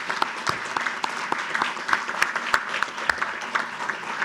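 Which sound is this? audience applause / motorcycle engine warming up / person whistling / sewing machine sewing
audience applause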